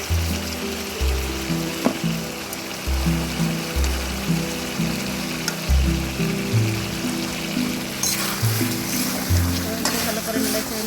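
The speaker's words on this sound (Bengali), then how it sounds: "ভালো করে নেড়ে চেড়ে নিচ্ছি, নেড়ে চেড়ে কষিয়ে নিচ্ছি।" Cloves and cinnamon sizzle in a pan for a chicken and potato curry as they are stirred, with rhythmic scraping strokes over a constant frying hiss.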